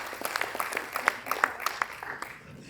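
Audience applause for performers at a Rotary multi-district conclave, a scattered patter of claps with some sharper individual hits, moderately loud throughout the short stretch.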